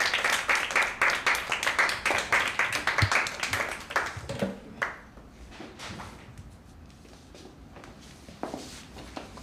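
Studio audience applauding on a TV entertainment show: dense clapping for about five seconds, then thinning into a few scattered claps and faint shuffling.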